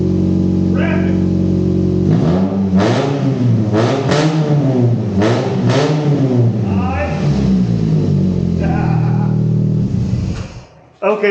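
A car with a 1.5 liter four-cylinder and Race-XB exhaust revs hard several times, loud and close, the pitch climbing and falling with each blip before settling and cutting off.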